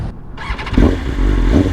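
A 2026 BMW M1000RR superbike fitted with a full Akrapovic exhaust and BT Moto tune accelerates hard on a highway, its engine note surging loud and close after a brief quieter moment.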